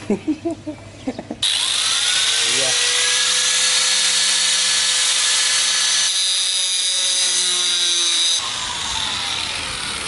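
A handheld power drill whirs at high speed during assembly of a portable solar kit, running steadily for several seconds before slowing, after a few sharp knocks at the start.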